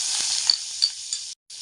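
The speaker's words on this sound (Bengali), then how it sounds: "এখন আমি আবার কড়াইয়ের মধ্যে 25 গ্রাম বাটার দিয়ে দিচ্ছি।" Butter sizzles in a hot wok, a close, steady hiss with a few light stirring knocks, cut by a brief silence near the end.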